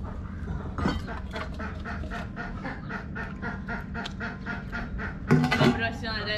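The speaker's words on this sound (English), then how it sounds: "Chickens found their food." Backyard chickens cluck in a steady, rhythmic series of calls at moderate distance, with a louder flurry near the end and a person talking quietly in the background.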